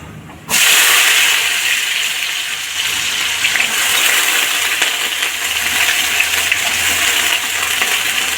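Diced potatoes hit hot oil tempered with cumin and burst into a loud, sudden sizzle that settles into a steady close frying hiss.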